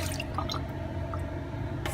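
Faint water drips and trickles as rinse water drains from a batch of sprouting seeds, soft and close, with a brief splashy burst at the very end.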